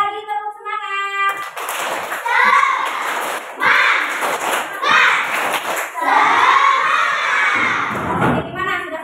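A classroom of children doing a rhythmic cheer clap, loud patterned claps and thumps mixed with their chanting and shouting voices, close and energetic throughout.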